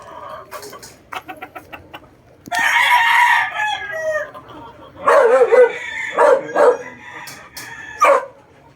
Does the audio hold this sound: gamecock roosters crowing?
yes